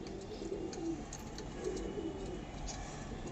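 Soft, low coos of a white pigeon repeat a few times, close by, over a steady background hiss.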